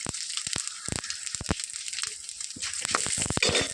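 Mustard seeds and dried chillies sputtering in a little oil in a kadai: rapid, irregular sharp pops and crackles over a hissing sizzle, close and loud, with no voices.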